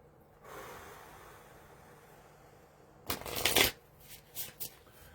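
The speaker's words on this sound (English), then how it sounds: "I have the Nature Spirits deck here, so I do want to go ahead and pull a card" An oracle card deck being shuffled before a card is pulled, a sharp riffling burst of cards followed by a few short softer flicks, close and alone in a quiet room.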